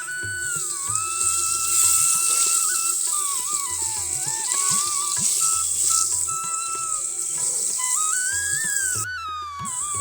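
Potato pieces frying in hot oil in a pan give a steady, dense sizzle throughout, with a thin whistling tone gliding above it and faint scraping clatter underneath.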